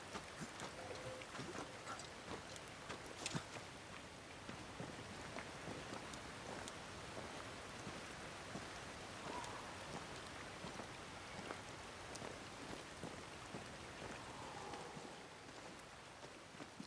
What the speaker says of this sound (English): Oh, I love the sound of a good waterfall.